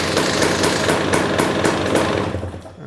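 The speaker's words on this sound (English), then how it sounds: "the final thing to do is to check that the starter starts the bike." The electric starter on a KTM, Husqvarna or GasGas two-stroke motorcycle cranks the engine with a loud, rapid, evenly pulsing mechanical whir that runs for nearly three seconds and then drops off.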